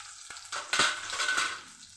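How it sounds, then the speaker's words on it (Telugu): Onion pieces fry with cumin seeds in a pan, giving a close, crackling sizzle punctuated by a few stirring scrapes. "ఎంత బాగా ఫ్రై అవుతుందో."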